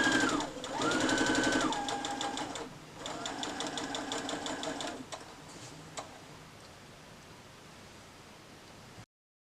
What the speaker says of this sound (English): So I'm going to line this up and just start sewing on those lines.